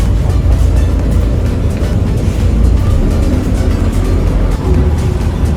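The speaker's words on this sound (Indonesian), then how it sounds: "Kita naik bis." Interior rumble of a Transmusi city bus riding through Palembang, a steady loud low engine and road drone filling the whole stretch with faint clatter above it.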